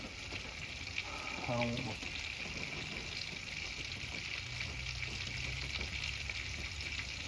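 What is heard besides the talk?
bacon and ribeye sizzling in butter over propane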